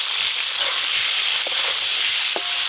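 Cleaned giant freshwater prawns fry in very hot oil during village-style cooking, with a continuous close crackling sizzle and a few sharp pops and spits rising above it.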